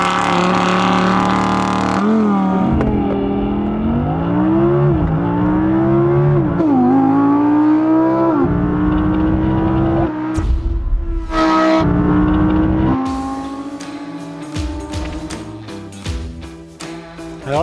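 Several Audi performance cars, including an R8 V10 plus, TT RS, RS 5 and RS 6, lap a race circuit with loud engines revving up and down through the gears, then pass by in a rush of engine noise and tire sounds.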